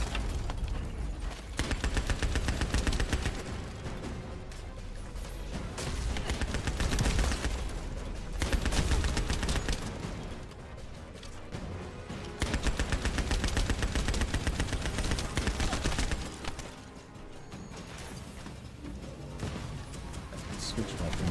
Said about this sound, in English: I forgot to shoot the guns